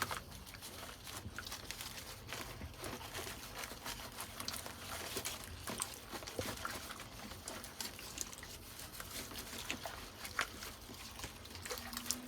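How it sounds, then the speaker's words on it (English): Water trickles and patters softly and steadily while compost is washed off the roots of supermarket hostas being soaked in water, with faint splashing throughout. "soaking the hostas in the water, washing off all the compost"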